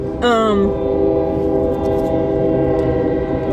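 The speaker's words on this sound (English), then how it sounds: "Choo-choo train." A train horn blows close by in one long, steady blast, its opening bend quickly settling into a sustained chord that holds loud through the whole stretch with no talking.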